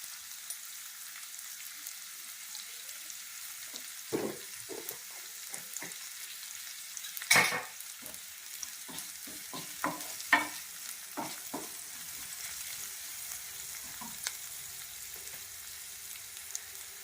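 Onions frying in a pan with crushed black pepper produce a faint sizzle under scattered spatula scrapes and taps, one louder clatter partway through, quiet and close, with no talking.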